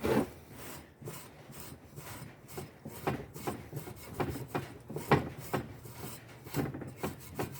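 A Scotch-Brite pad scrubs parts from a wrecked CRF250 motorcycle engine, making repeated close rasping strokes in an uneven rhythm. The strokes are fairly quiet, and there is no talking.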